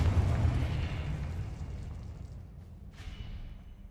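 A Confringo fire spell bursts in Hogwarts Legacy with a loud, deep boom at the start that rumbles and fades over several seconds, followed by a brief sharp crackle near the end.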